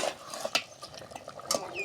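Potato, pointed gourd and egg curry stirred and sautéed in a pan, with repeated light scrapes and clinks of a spatula against the metal, close and fairly quiet, over a soft background sizzle.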